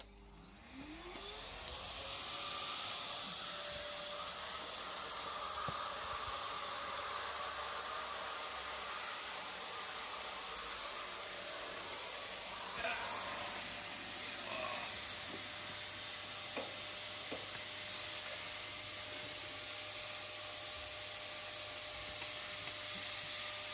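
A shop vacuum in a woodworking workshop runs with a loud, steady, close whooshing roar as it sucks up sawdust, with occasional rattles of debris going down the hose.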